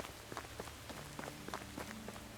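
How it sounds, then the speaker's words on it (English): Rain falls on an overcast day, with faint scattered drops tapping on surfaces in irregular patter over a soft, steady background hiss. "It's still raining."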